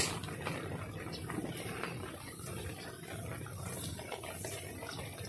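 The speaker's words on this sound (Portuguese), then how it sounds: "a água tá entrando ali, ó." Rainwater running in during heavy rain near where a bus would pass, a steady rushing and splashing flow that stays fairly constant throughout, with no clear talk over it.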